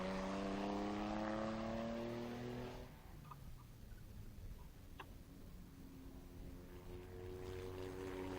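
Porsche race car lapping the Estoril circuit, its engine note rising loud and near, then fading away before building again toward the end, alone without voices.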